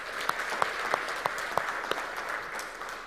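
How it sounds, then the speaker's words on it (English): A training session audience applauds, a steady wash of clapping from a modest crowd with several louder individual claps standing out at regular intervals. "Let's give a big round of applause to the whole team."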